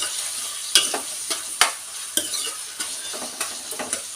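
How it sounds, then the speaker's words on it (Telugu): Sliced bitter gourd frying in a pan, an ongoing hiss punctuated by repeated clinks and scrapes of a spoon stirring, close and clear with no talking. "సో ఈ కాకరకాయలన్నీ ఫ్రై అవ్వాలి"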